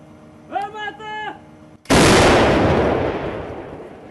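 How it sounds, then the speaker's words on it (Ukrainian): A Ukrainian Bohdana self-propelled howitzer fires a NATO 155 mm artillery shell, giving one huge, sudden blast that rolls away in a long decaying rumble, after a short stretch of speech. "У бік окупантів одразу випускають кілька натовських 155 мм снарядів."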